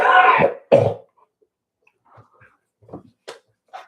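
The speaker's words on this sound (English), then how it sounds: "Had this gnarly cough lately." A harsh cough bursts out twice in quick succession, close and loud, followed by a few softer scattered throat sounds and small clicks.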